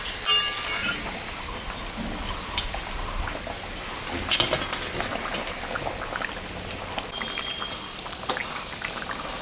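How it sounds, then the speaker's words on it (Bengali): Fish curry gravy for a 1 kg mrigal fish bubbles in a pot with a constant close, churning hiss and crackle, and no talking. "ঝোলটা ফুটে গেছে এখন আমি মাছটা দিয়ে দিলাম"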